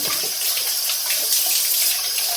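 Tap water running and splashing over a Dyson Gen5detect dust bin as it is rinsed in a sink, a continuous close hissing gush with no voices.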